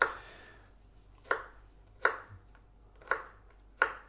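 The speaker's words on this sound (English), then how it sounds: "So I'm just going to chop this up into smaller pieces." Rosemary and garlic chopped with a knife on a board for sous vide lamb, five crisp, evenly spaced close chops with quiet gaps between.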